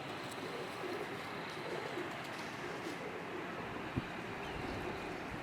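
Domestic pigeons coo softly on a rooftop loft, a low murmuring cooing under steady outdoor ambience with no talk.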